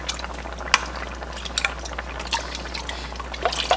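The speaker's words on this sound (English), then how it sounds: "What I'm going to do is I'm going to pour some of it" Beef broth poured from a cup into a can while making homemade goulash, a faint liquid trickle and splash with scattered clinks and light kitchen noise, no one speaking.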